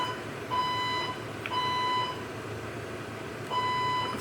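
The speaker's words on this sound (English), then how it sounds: "I'm gonna show you the fake alarm, how they do the noise campaign to try to deprive me of any sleep." A fire alarm at 4 a.m. sounds repeated bright electronic beeps in short bursts with gaps between them, fairly faint over a quiet indoor background with no talking.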